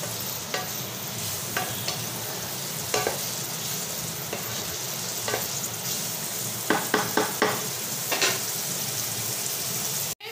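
Veg fried rice being stir-fried in a pan, a constant close sizzle broken by scraping clinks of a spatula against the pan, several in quick succession near the end, no talk.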